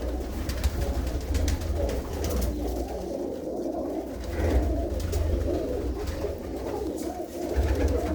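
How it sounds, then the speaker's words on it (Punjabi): Pigeons coo steadily inside a loft, among them a prized breeding pair, with soft overlapping calls over a constant low hum throughout. "ਆ ਦੇਖੋ ਕ੍ਰੈਸ਼ਨ ਕਬੂਤਰੀ"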